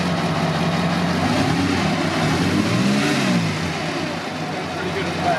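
A restored Bugatti car engine with a straight-through exhaust revs steadily, a loud, continuous mid-pitched roar that swells and eases slightly; voices can be heard faintly alongside.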